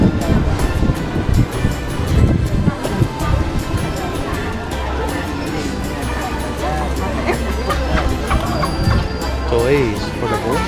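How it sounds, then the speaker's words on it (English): Wind blowing hard across an outdoor spot, a steady gusty roar with a surf-like wash, loud throughout, while people talk over it. "Oh, that wind feels so good."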